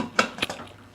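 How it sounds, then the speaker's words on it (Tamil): Two sharp metallic clanks in quick succession as a pressure cooker lid is set and closed over mutton for curry in a home kitchen, close and brief with no talking. "குக்கரை மூடி"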